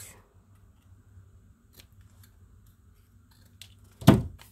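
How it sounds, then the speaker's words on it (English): Scissors cut cardstock covering a recycled blank book, a single sharp close snip near the end after a quiet stretch with faint handling noises. "I'm going to go ahead and cut this off"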